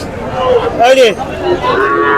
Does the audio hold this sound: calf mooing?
yes